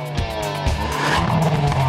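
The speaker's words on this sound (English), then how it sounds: "You listen to the car just idle and being revved up, like the exhaust sounds are so exhilarating." A Hyundai N Series performance car revs hard on a test drive, its exhaust note loud and close with rising, rasping bursts and a brief tyre-squeal edge over two seconds.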